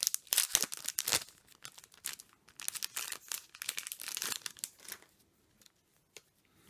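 A taped package of card sleeves is pried open by hand, with close, loud plastic crinkling and tearing in irregular bursts that thin out into quieter rustles toward the end.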